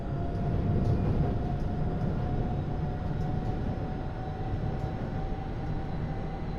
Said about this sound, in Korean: 운행 실패! 열차가 탈선했습니다.